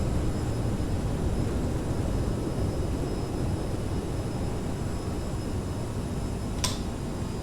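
Thrust reversers of a CRJ-700 airliner roar through the landing rollout in a flight simulator, a steady, dense, broadband rush that holds evenly throughout, with one brief click near the end.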